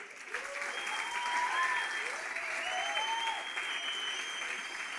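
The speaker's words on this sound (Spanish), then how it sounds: "vamos a recibir con un fuerte aplauso al pastor Ron Bennett" Steady applause from a church audience welcoming a pastor to the stage, a dense even wash of clapping held throughout at moderate distance, with whistles and cheering voices rising over it.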